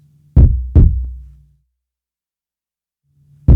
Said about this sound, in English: So the kick, and this is something I like doing, is a heartbeat.